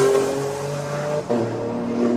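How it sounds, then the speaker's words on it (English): A Lotus Elise race car runs at a hillclimb, its engine note loud and close, with a brief dip that may be a gear change, while the front splitter knocks against the track. "That front splitter hitting down on the track, just getting as much downforce as possible from that Lotus Elise."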